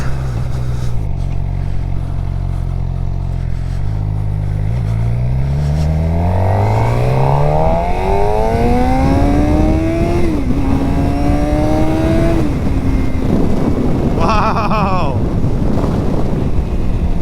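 A 2023 Suzuki GSX-R600 motorcycle pulls away riding around the block, its engine note rising through several gears in climbing sweeps, loud and close under heavy wind buffeting, with a quick rev near the end.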